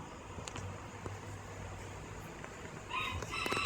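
Muscovy ducks squawk near the end, sharp harsh calls rising after a stretch of quiet outdoor background noise.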